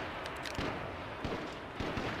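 Gunshots in the battle royale game H1Z1 crack in a quick cluster early on, then single sharper shots follow at irregular intervals, faint and somewhat distant under steady background noise.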